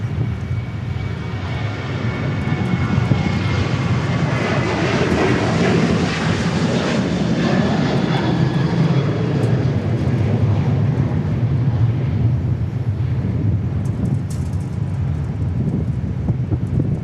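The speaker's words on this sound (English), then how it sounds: "Here we go, our next Southwest departure." A Southwest Airlines jet departing Dallas Love Field builds into a loud, sustained engine roar that sweeps through as the aircraft passes, then holds a steady rumble with wind noise, no voices.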